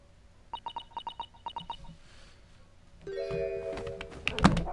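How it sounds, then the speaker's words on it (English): A bell rings in The Great Ace Attorney Chronicles, a run of about eight short, bright, evenly spaced chimes. Then comes a busier stretch of sustained tones and sharp clatter that ends in a loud hit. "It's just a bell, Brett."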